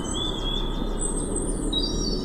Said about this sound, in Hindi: उसे फिर से पंछियों की आवाज सुनाई दी